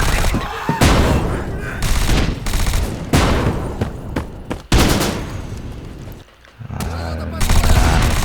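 Gunfire in the online shooter Bullet Force: loud, continuous automatic bursts and rattling volleys with heavy booming impacts. They come in dense stretches, break briefly near the end, then resume.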